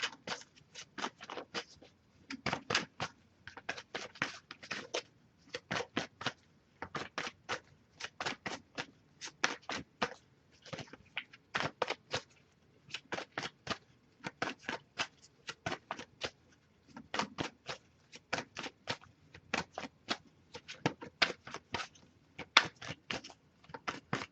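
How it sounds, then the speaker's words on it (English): A tarot card deck is shuffled quietly and repeatedly, with short crisp riffling bursts in a steady, irregular rhythm, close and soft with no talk. "if I shuffle for a while and if it comes up here, I'll just actually put the deck down"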